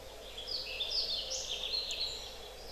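The soechka, a small songbird, sings quietly in a spring forest, a thin, high warble of quick chirping notes at low volume with nothing else around.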